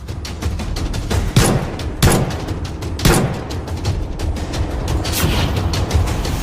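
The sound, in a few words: gunfire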